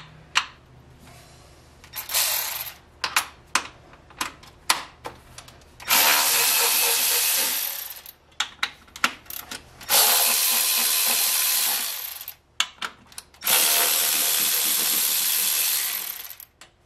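Ratchet clicking on a 13mm socket while undoing cam cover bolts on a Mercedes W108 M130 engine, in short bursts of rapid ticking and several long sustained runs, close and loud, without talk.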